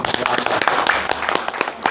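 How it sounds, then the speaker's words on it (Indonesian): An audience applauds in a quick patter of claps, moderately close and steady for a couple of seconds, with voices mixed in. "tepuk tangan"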